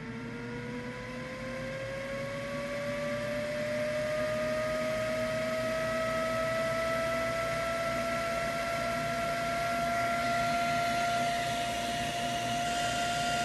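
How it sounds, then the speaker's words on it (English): A loud graphics card cooling fan whirs steadily and ramps up in pitch, its whine rising over several seconds into a sustained roar. "then what it goes up to when the fan kicks in"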